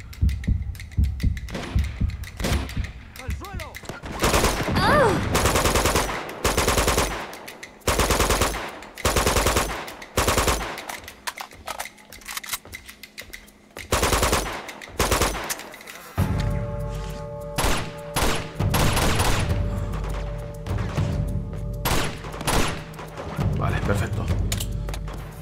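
Heavy machine gun fire from a slow-moving armored enemy in Uncharted 2 on PS4, long rattling automatic bursts broken by short pauses, loud and close amid explosions, with someone speaking over the action.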